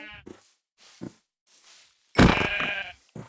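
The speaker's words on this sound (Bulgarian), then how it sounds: "О, ето ги и нашите овце." Sheep bleating in the video game Minecraft, a few short game bleats followed by one louder, longer bleat near the end, with faint sounds in the gaps.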